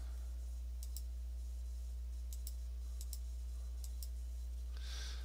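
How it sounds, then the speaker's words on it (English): Calculator keys are tapped in a handful of sharp, quiet clicks spaced irregularly over a steady electrical hum. "I'm typing it exactly as I see it"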